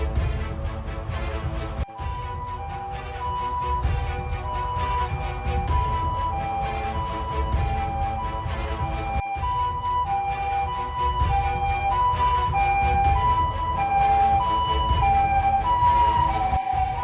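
A wailing ambulance siren from the Sakura School Simulator game cycles loudly and continuously, its rising and falling tones repeating without pause and no speech over it.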